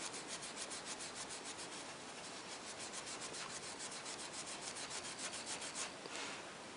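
Steady scrubbing as grime is rubbed off the chassis of a Marconi 559 radio, a continuous close, soft rasping with a faint rhythmic back-and-forth stroke that runs without a break.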